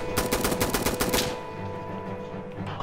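Rapid gunfire from a video game rattles out in a quick burst of closely spaced shots, loud and close, then cuts off into a low background rumble.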